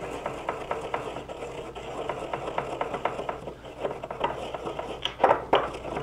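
Dry, twiggy herb leaves are rubbed between hands for a bread stick recipe, giving a continuous close crackling, rustling friction with rhythmic scratchy pulses that grow louder near the end.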